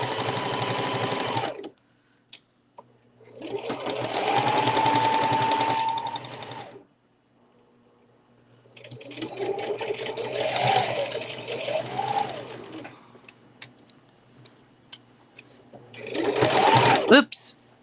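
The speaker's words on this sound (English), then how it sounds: "we're going to carefully sew all around the edges like this" A sewing machine stitches around the edges of a fabric dog bandana in three long bursts with short pauses between, close and steady, the motor whirring loudly.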